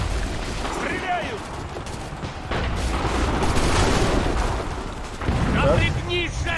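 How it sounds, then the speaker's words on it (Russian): Gunfire in Assassin's Creed 3, with a steady fusillade of shots and booms running throughout, loud and dense, while voices shout over the shooting. "По нам стреляют!"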